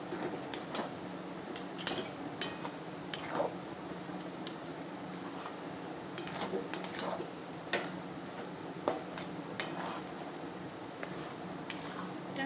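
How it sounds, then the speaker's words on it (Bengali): Stirring a thick palm-fruit batter mixed with baking soda in a pan, heard as a steady run of soft scraping and clicking strokes of the spoon against the metal, close up, with no speech. "এটাকে এবার ভালো করে নাড়িয়ে নাড়িয়ে একদম শুকনো করে কষিয়ে নেব"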